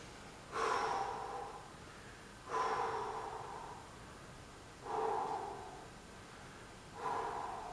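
Four forceful exhales from someone doing a lower-body leg exercise come close and strong, spaced evenly about two seconds apart against a quiet room.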